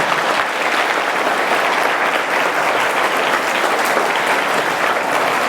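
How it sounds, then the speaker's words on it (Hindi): Steady, loud applause from a crowd of schoolchildren at a school celebration for Hanuman Janmotsav, sustained without pause throughout. "तो एक बारी सारे अपने लिए तालियां बजा दो कि तुम कितने अच्छे बच्चे हो सारे।"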